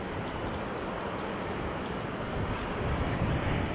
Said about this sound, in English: the A380 first has to turn all around the southern threshold of the center runway